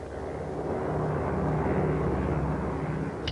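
A plane's engine drones steadily overhead in wartime New Guinea, a continuous, even rumble that holds at a constant level throughout without any voices.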